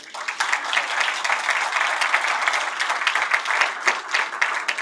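Audience at a business leaders' congress conference in Tunisia bursts into sustained applause after a keynote talk, dense steady clapping from a large crowd throughout.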